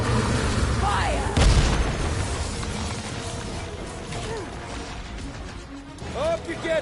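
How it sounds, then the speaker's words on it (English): Bombs explode in a Guardians of the Galaxy video game, with booming blasts and clanking mechanical crashes layered under game music and a character's voice. "Watch those bombs! I'm not about to get blown up now!"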